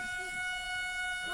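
A train horn sounds at night, a steady sustained tone with layered harmonics holding for the whole moment, fairly distant and unbroken, with no talk over it.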